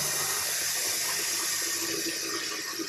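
A toilet tank refills through a Fluidmaster fill valve after the water supply is turned back on, a steady loud hiss and rush of running water that continues without pause.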